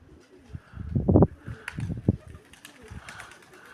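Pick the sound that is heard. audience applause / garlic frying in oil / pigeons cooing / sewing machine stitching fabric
pigeons cooing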